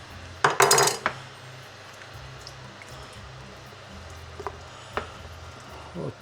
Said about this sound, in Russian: И отправляем картошку с томатом.